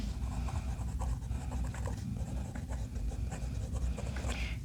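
An extra fine nib Relic Pens fountain pen scratches softly across paper in short strokes, faint and close over a steady low background hum.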